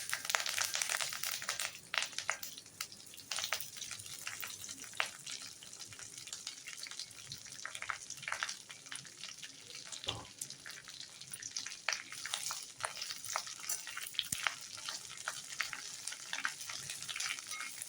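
Curry leaves sauté in hot oil in a kadai, a continuous crackling, spitting sizzle full of tiny pops, with occasional stirring scrapes, close and steady throughout, no voices.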